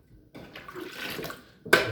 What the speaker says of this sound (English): let this dirty water out